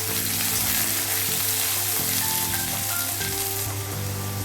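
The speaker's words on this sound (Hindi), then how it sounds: "ऑनियन को एकदम ब्राउन करके फ्राई करके लेना है।" Onions fry in hot oil in a pan for spicy achari chicken, giving a loud, steady sizzle that stays continuous and unbroken throughout, with no talking over it.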